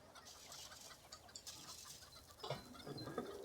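Chickens in RuneScape give a few soft clucks over a faint, busy background, quiet and close, with no talk.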